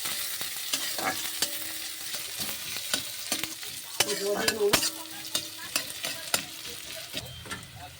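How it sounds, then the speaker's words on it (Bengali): Chopped onion frying in a pan after the whole spices are tempered, stirred with a utensil: a steady close sizzle under irregular scraping strokes, with a few sharper knocks against the pan. "তারপরে পেঁয়াজ কুচি দেবো, একটু ওপিট ওপিট করে নাড়াচাড়া করে নেবো।"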